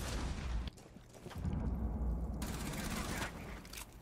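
Bursts of rapid gunfire crackle in a console shooter, with dense volleys of shots and short pauses between them, heard alongside an excited voice talking.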